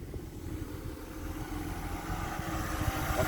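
A Mercedes W124 300 TE estate idles with a low, smooth, even engine murmur heard up close, quiet and steady with a faint rumble throughout.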